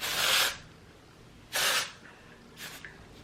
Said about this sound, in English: I'm gonna go in with a texture spray to mess it up a little bit